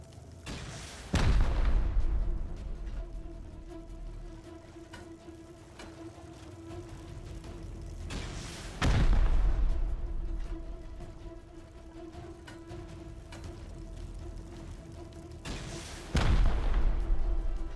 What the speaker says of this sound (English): we'll use 4 rockets to breach the outer shell on the first and second floor